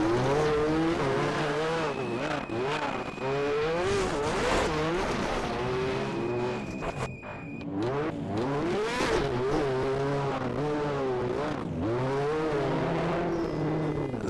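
Ford Focus WRC rally car driving a stage at the Coffs Harbour Rally, the engine loud and close, revving hard up and down through repeated gear changes with brief lifts, tire noise and skids between bursts.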